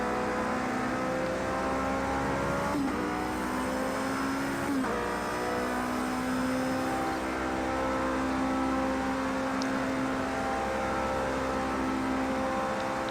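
A race car engine in Project Cars 2 at Spa-Francorchamps drones loudly and continuously at high revs, with pitch climbing steadily as it accelerates and two brief dips at gear shifts.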